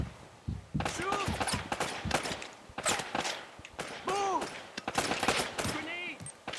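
Gunfire in the video game Uncharted: Drake's Fortune comes as rapid bursts of shots and thuds throughout, mixed with shouting voices and battle noise.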